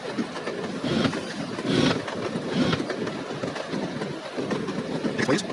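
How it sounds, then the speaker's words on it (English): Train rolling along rails in the spy game No One Lives Forever, a steady rumbling clatter with rhythmic surges every second or so, close and continuous, with no voices. "I love riding the train."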